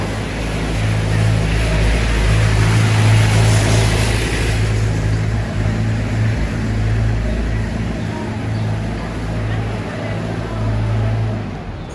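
A loud, rumbling tractor engine drones nearby for several seconds, its low chugging slowly fading as it moves past.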